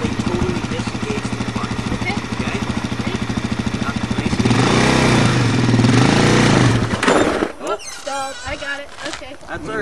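A Suzuki Z400 ATV engine runs steadily on a farm driveway with a rough buzzing drone, revving louder midway, then cutting off abruptly, leaving quieter scattered sounds and voices.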